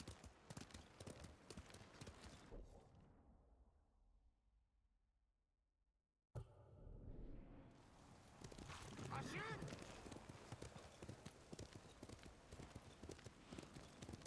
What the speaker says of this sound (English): Look at all these horses.